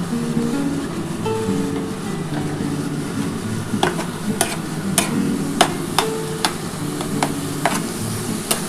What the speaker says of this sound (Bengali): এবার এটা ভালো করে কিন্তু এটা কষাতে হবে।